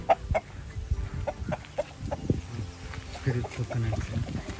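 A healthy-looking chicken of an unusual breed clucks in short repeated bursts on a farm among coconut trees, with other fowl and low ambient noise around it.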